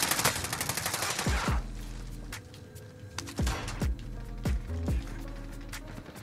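Gunfire in a first-person shooter video game: a dense rapid burst of automatic fire for the first second and a half, then several separate loud single shots with descending whistling tails, over a low continuous rumble.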